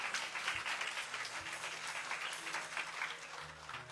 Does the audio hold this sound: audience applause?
yes